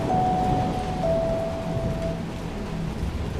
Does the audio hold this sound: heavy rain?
yes